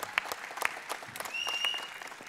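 Applause from the audience at a Sanremo singing contest, scattered individual claps that sound moderately distant, with a brief whistle partway through and faint crowd murmur underneath.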